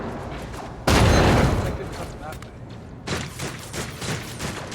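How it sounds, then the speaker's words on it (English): Gunfire from the Rogue Trader video game: a loud burst of dense shots erupts early, fades, then a second rattling volley of rapid reports follows, with talk over parts of it. "Just a general gunfire."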